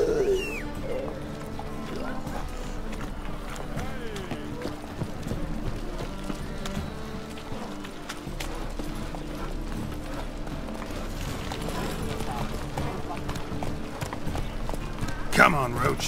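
Geralt's horse Roach gallops through Novigrad in The Witcher 3, with steady, rhythmic hoofbeats at close range running under conversation throughout.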